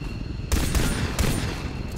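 Pistol gunfire in the video game XCOM 2, a quick burst of two or three close, loud shots with a sharp crack and brief rumbling tail over game background sound.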